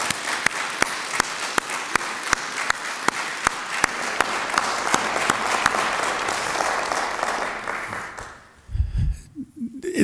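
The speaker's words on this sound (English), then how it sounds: "how about a round of applause for all of our winners?" Audience applause for student award winners at a college leadership ceremony: sustained clapping from a crowd, with several sharp, evenly spaced claps standing out near the microphone, then fading out near the end into a brief low thump.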